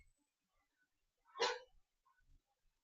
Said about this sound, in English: No barking, guys.